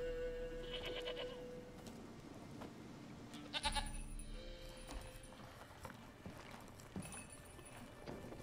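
A goat in The Witcher 3 video game bleats, set against constant in-game ambience and faint hoof-like clopping, moderately loud but not dominant.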